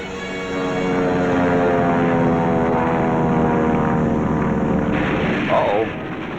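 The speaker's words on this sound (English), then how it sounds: "Our patrols have spotted an enemy search plane and are after her." Propeller aircraft flying over a WWII Pacific naval task force, a loud, steady droning engine roar that holds throughout with a slight shift near the end.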